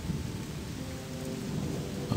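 Steady rain falling inside a video game world, a soft continuous wash with low rumbling underneath, holding at a moderate level without pause throughout.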